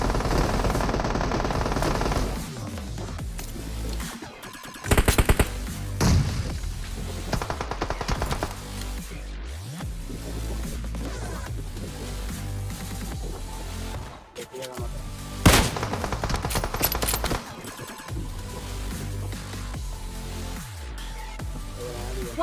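Rapid bursts of gunfire in a mobile battle royale shooter, with a Kar98 rifle in play, sound in loud clustered volleys separated by brief lulls, with sharp single cracks standing out among the rattling fire.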